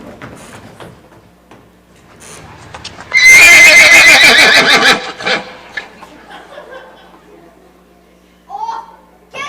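Within an audio drama, a horse whinnies loudly and at length over clip-clopping hooves, with actors talking and chuckling quietly before and after the neigh.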